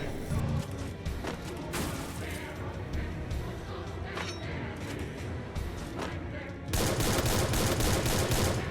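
Rapid gunshots crack in quick bursts during a match of the mobile battle-royale game Free Fire, close and punchy over game ambience, ending in a denser stretch of firing.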